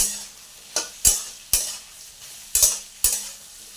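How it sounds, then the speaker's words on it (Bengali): Half-fried potatoes and soybean chunks cook in very little oil, with a low sizzle under about five sharp, rhythmic spatula scrapes against the pan. "আলুর সাথে সয়াবিনটা দিয়ে দিচ্ছি, আলুটা অর্ধেক ভাজা হয়ে গেছে"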